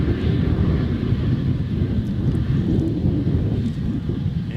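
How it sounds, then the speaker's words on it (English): Qatar Airways airliner taxiing out at Adelaide Airport, a steady low engine rumble and roar heard from outside with wind buffeting the microphone throughout. "Qatar making its way out. Just a ripper of an aircraft."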